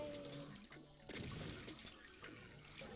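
A toilet flushes in the DooM WAD Winter In The City, a steady watery rush and gurgle held at moderate level throughout, with a brief louder surge partway through.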